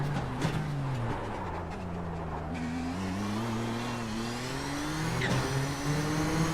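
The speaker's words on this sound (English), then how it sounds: "we're full throttle all the way down through Eau Rouge" A Nissan GTP ZX-T prototype race car at full throttle through Eau Rouge at Spa-Francorchamps in the iRacing sim: a loud, sustained engine howl whose pitch climbs steadily, then drops and climbs again at a gear change.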